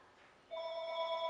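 A telephone starts ringing partway through, a steady electronic ring with sustained tones that carries on to the end after a quiet, faint stretch.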